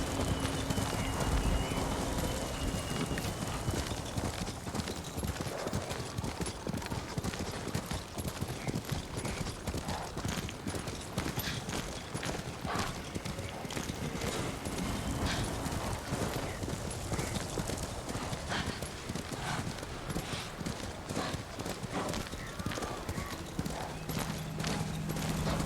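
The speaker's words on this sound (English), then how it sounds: "There's a guy on a horse actually chasing me." Galloping hooves from a horse in Ghost of Tsushima pound in a fast, continuous rhythm, mixed with busy game combat noise and scattered sharp impacts, dense and sustained throughout.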